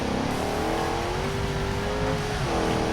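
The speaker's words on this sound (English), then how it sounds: "Oh, you can hear the turbo from this view." A video-game ETK 1300 car drives along with its engine and turbo droning steadily and loud, the pitch rising gently as it accelerates, with no voices.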